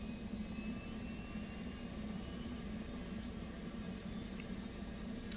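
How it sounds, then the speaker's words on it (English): Auxiliary power unit on an F/A-18C in the DCS flight simulator runs as a steady, even whine and roar, fairly quiet and unchanging throughout, with no speech. "we'll turn on the APU, which is the auxiliary power unit"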